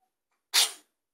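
A single sharp sneeze from a person close by, a brief loud burst lasting about a quarter second, with near silence before and after.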